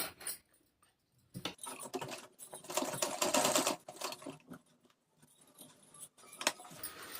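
A domestic sewing machine stitches a crossed marking on the front panel of a kurti in bursts of fast needle rattle, with short pauses and a long steady run in the middle, close and clear.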